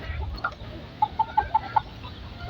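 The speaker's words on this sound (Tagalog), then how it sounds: "Asayo mga inahin na yun." Mother hens on a farm cluck in a quick, evenly spaced series of about five short calls, fairly close, over soft outdoor background noise.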